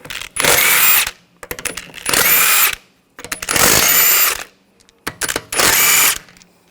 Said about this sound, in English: Now I'm going to remove the wheel, use a 17mm socket,